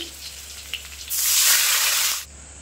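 Water poured into a pan of potatoes fried until reddish bursts into a loud, broad sizzle that holds for about a second before cutting off, over a quieter background hiss.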